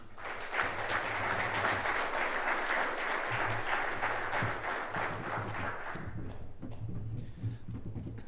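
Sustained audience applause at the Greater Irvine Chamber's Celebrate Irvine 2021 event after a speech, a dense, steady wash of many hands clapping that thins out toward the end.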